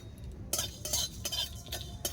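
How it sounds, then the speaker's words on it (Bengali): Whole dried red chillies, bay leaves, coriander seeds, fennel and garam masala dry-roast in a wok while being stirred, giving faint, rhythmic scraping and light rattling strokes. "তো এটাকে আমি হালকা করে নেড়েচেড়ে একটু ভাজা মশলা করে নেব"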